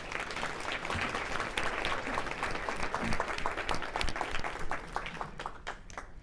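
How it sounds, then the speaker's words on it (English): An audience at a workplace sexual harassment talk claps in sustained, dense applause for Dr. Guajardo, with the clapping fairly loud and steady before it thins out toward the end. "How about a round of applause for Dr."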